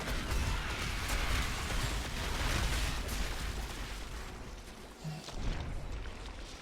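Crusader Bombardment skill explosions in a video game, a dense wash of booming impacts and rumbling blasts layered continuously with broadband noise, loud and chaotic throughout.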